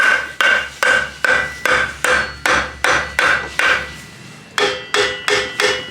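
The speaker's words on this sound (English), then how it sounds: "you're gonna need a rubber mallet maybe" A rubber mallet knocks a brace into place on an AWD bolt-in kit, giving about a dozen evenly spaced, close, sharp blows in a steady rhythm. The last few strikes land duller. No one talks.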